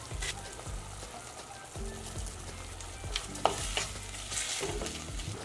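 Tamarind juice with salt bubbles and sizzles in a pan, a close, continuous crackle with faint stirring scrapes and no talking.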